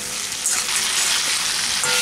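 Fried potato and cauliflower being cooked with spice paste in a pan for a vegetarian curry, a loud, dense, continuous sizzle up close for a short stretch.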